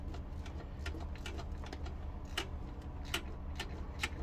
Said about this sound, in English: Good nice fine ratchet so we can get some cranks on it.